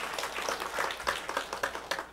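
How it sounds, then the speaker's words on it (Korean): A church congregation claps together in a Korean service, a dense, moderately distant patter of many hands with individual claps popping out, fairly steady for a couple of seconds. "우리 하나님께 영광의 박수 올려드리겠습니다"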